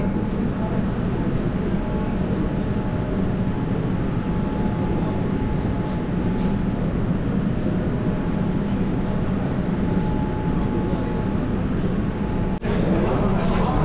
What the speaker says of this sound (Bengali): একদম 7টা বেজে ঠিক 7টার সময় দেখি মেট্রো ঢুকছে